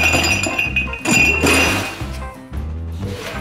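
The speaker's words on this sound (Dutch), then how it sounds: "Deze glazen die moeten even kapot gemaakt worden." Drinking glasses smashed and rattled inside a closed box, a continuous harsh jangle of clinking, crunching shards that surges and shifts as the box is shaken, loud and close.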